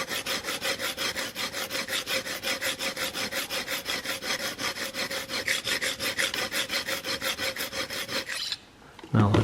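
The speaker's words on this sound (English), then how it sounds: "Let's just give it a few strokes at 800 grit." Four-blade broadhead being sharpened on an 800 grit stone, steady rhythmic rasping strokes back and forth, close and even, about two per second, ending with a brief pause and a soft knock.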